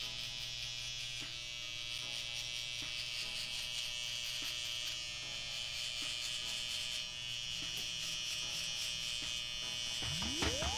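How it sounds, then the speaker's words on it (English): Electric hair trimmers buzz steadily and close up while cutting down the hair on the sides of a client's head for a fade, with faint clicks of the blade against the hair through the continuous hum. "Let's start off by debulking some of this hair he has on the side with our trimmers."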